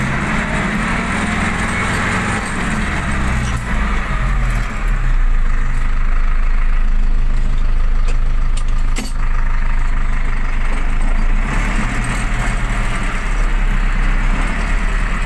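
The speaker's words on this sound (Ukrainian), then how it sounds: "Ви чуєте, навіть звук у тракторі не такий, як Д-245." An MTZ 1025 tractor's replacement MAN D0834 diesel engine runs steadily and loudly close by, its low rumble holding throughout with slight rises in throttle partway through.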